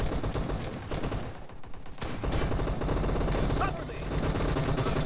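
Rapid automatic gunfire from the video game PUBG rattles in dense, loud bursts with a short lull near the middle, then resumes steadily.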